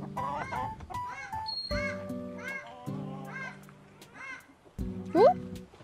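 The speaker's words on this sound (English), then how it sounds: "We let the chickens out, but they don't stay out for very long because it's so hot." Chickens let out of their coop on a hot day cluck and squawk in repeated loud calls close by, with honking goat or fowl cries mixed in and people talking in the background.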